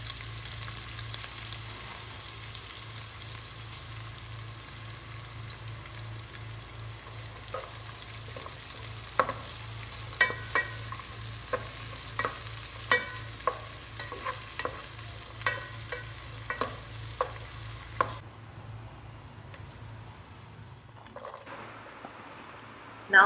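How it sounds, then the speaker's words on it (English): Onions, green chilies and garlic sauté in hot oil in a pan under a steady low sizzle. Repeated light scrapes and taps of a spoon punctuate the frying at a gentle, uneven rhythm before the sound drops away near the end. "Add onions, green chilies, garlic. Saute for a while."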